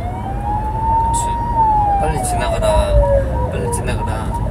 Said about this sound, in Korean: 아이고, 뒤에 앰뷸런스 있어.